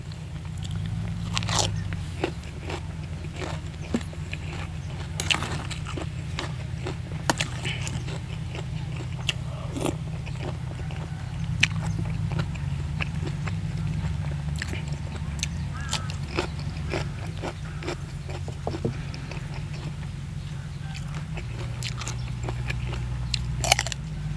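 Close, crisp crunching and biting as someone eats crab papaya salad with crispy fried bitter gourd, irregular sharp crunches repeating steadily over a low continuous background hum.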